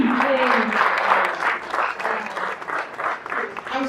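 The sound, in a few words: audience applause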